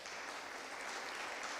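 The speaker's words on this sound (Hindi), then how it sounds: "वर्शिप टीम के लिए ज़ोरदार तालियां" Applause for a church worship team at a Friday prayer meeting, a soft, steady wash of many hands clapping, faint and continuous throughout.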